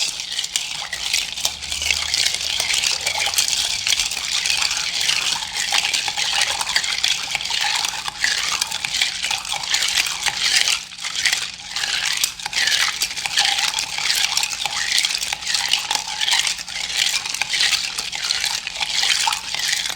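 Ice stirred in a mixing glass for a martini, a continuous soft clinking and swishing rattle that runs steadily for the whole stretch with no voices.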